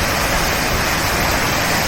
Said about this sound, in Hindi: पानी डिस्चार्ज होता है